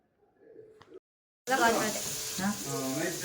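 Fish frying in pure homemade coconut oil, a steady loud sizzle that breaks in abruptly after a short quiet stretch, with a faint voice murmuring underneath.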